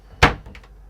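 A cupboard door on a Hanse 460 sailing yacht's cabin swings with a single close, solid thunk, followed by a couple of faint lighter clicks.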